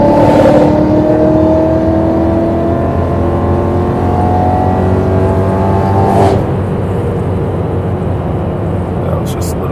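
A supercharged BMW E92 M3 on a night drive pulls hard with a rising engine whine and drone, then drops off sharply as the throttle lifts into a steady cabin rumble, loud and close.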